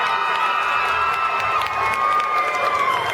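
Crowd at an All White Affair party at Amazura cheering and clapping for a live band, a steady, loud roar of voices and applause with whistling tones across the whole stretch.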